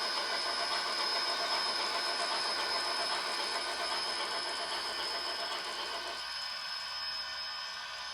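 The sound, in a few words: Bachmann HO Shay model locomotive LokSound engine sound speeding up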